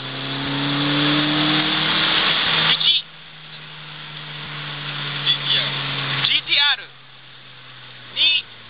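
Ferrari engine revving loudly with a steady drone, then cutting off and returning in short bursts, with voices talking over it.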